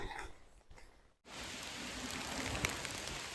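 Rain falling outdoors during a mushroom-foraging outing, a steady close hiss of drops that breaks off briefly into near silence and then returns at an even, continuous level.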